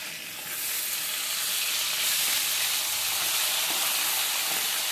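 Poa bhola fish fries in a pan with a steady, loud sizzle and hiss that swells after the first half second and stays dense and unbroken, no voices over it.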